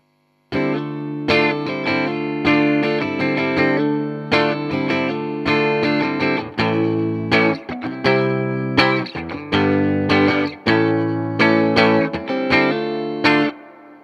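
Electric guitar through an amplifier, playing strummed chords and ringing notes with a distorted, chorus-tinged tone, loud and close.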